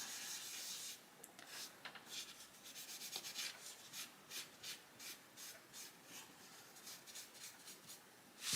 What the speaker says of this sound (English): you lay your template on and you rub up to the edge of it like that